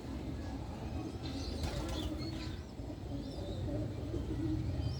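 Black mulberry pigeons kept in a loft, with low cooing murmurs over a dense background rumble and a few soft flutters of wings near the middle.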